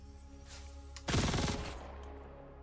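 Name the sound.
Kastak Arms Custodian SMG firing in Star Citizen video game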